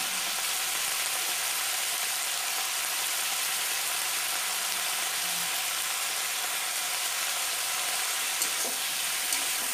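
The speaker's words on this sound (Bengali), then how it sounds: "কাঁঠালটা ভালো করে নেড়ে চেড়ে কষিয়ে নিতে হবে" Jackfruit sautéed with salt, turmeric and cumin powder in a pan gives a steady, soft sizzle and hiss throughout, with faint stirring scrapes near the end.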